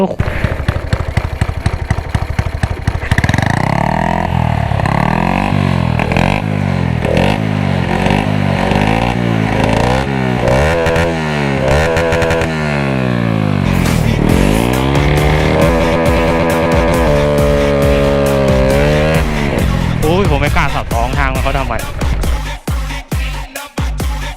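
Motorcycle with a stainless filter fitted to the exhaust tip, revving hard in repeated rising and falling bursts before launching, loud and close throughout.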